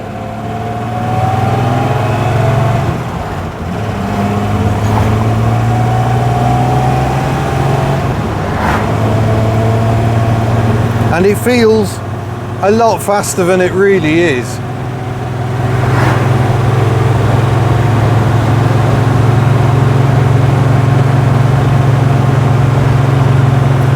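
A Triumph GT6 classic sports car with a muted exhaust drones steadily at a low pitch throughout, rising as it accelerates near the end, while someone talks over the engine.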